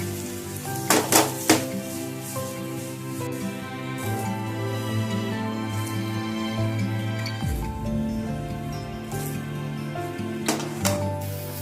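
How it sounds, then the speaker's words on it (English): Boiled corn and peas tossed in a pan over a high flame, with a steady sizzle running throughout and a few sharp metallic clanks of utensil against pan near the start and end. "the boiled corn and the peas. And we need to saute them and saute these on a high flame"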